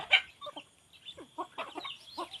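An old hen and her chicks make a sharp cluck, then a run of soft, rhythmic clucks mixed with faint high peeping, nearby in a quiet setting.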